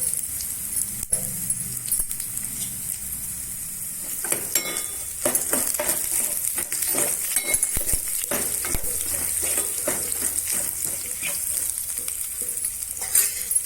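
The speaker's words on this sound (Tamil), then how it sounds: "கடுகு நல்லா பொரிஞ்சிச்சு" Mustard seeds spluttering in hot oil for a tempering, heard as a dense continuous sizzle with quick crackling pops and a few metallic clinks of a spoon against the pan, close and fairly loud.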